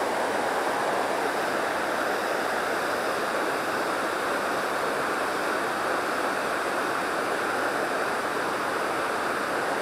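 A waterfall near Hitoyoshi in Kyushu, Japan, pours in a steady, dense roar of rushing water that stays even and unbroken throughout, with no voices over it.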